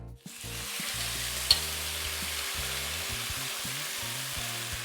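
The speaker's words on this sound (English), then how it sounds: "We want to sear that meat as quickly as possible" Marinated beef searing in very hot sesame oil for Chinese black pepper beef, a loud, steady sizzle that holds from start to finish, with a few low pan knocks and a single sharp clink.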